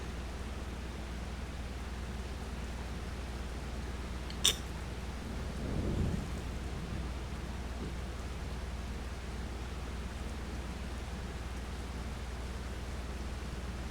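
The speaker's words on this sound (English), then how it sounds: "Still thundering." Steady rain hisses through a Farming Simulator 25 thunderstorm on the Alma, Missouri map, with one low, soft rumble of thunder rolling by about midway and no talking.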